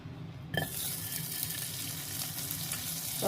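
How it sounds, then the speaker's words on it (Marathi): Butter hits a hot kadai and breaks into a loud, bright sizzle after a brief quiet moment, then keeps crackling steadily up close. "कढईमध्ये घालूया बटर"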